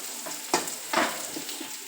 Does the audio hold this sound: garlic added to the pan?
yes